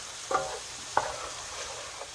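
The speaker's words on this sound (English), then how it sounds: "I'm going to go ahead and put in my shallots and my spinach" Shallots and spinach cooking down in melted butter in a pan give a soft, steady sizzle, broken by two or three brief stirring clatters from a utensil.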